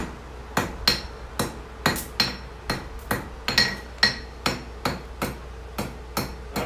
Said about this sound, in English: It's just amazing that you can just move it around and hammer and it goes into shape.